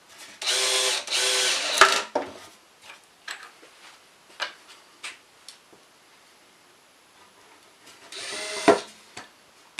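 A power drill drives screws into soft cedar boards for a window flower box, two short whirring bursts early and another near the end, with light tapping and handling knocks between them.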